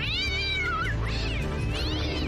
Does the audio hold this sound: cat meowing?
yes